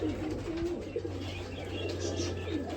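Yellow domestic pigeons in a bird shop give soft, low, repeated cooing calls against a steady indoor hum, with faint chirps over it.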